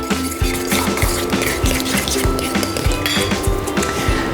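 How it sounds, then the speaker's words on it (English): A whisk clinking rapidly and rhythmically against a bowl while beating grated Parmesan and cracked black pepper together, close and continuous metallic taps. "Whisk this all together."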